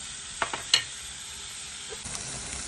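Pumpkin pieces sauté in oil for a Chettinad tamarind curry, with a soft, steady sizzle and a few quick scraping stirs near the start.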